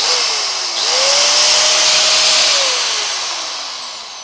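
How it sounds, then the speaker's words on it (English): An angle grinder runs off a 240-volt inverter in a VW Crafter camper van, its high whine spinning up, holding steady near and loud, then winding down as the motor coasts to a stop. "This is a grinder"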